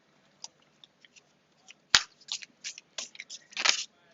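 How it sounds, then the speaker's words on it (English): Tarot cards shuffled by hand: a run of soft, quick papery riffles and flicks, a few light taps first, then a denser burst of shuffling, close and alone. "Just too good at shuffling"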